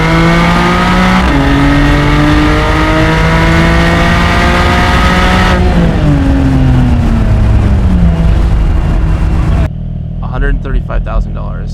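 A 2024 Porsche Boxster GTS 4.0 engine roars loud and close, holding a steady rising pitch, then dropping through a downshift and climbing again under acceleration before cutting off near the end; a voice talks over it throughout.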